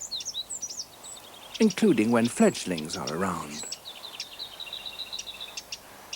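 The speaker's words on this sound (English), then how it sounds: "The wren's alarm call is also heard frequently" A wren in a British garden gives short, high alarm calls, a scattered run of them before a voice speaks and a thinner series after, all fairly faint against a soft background.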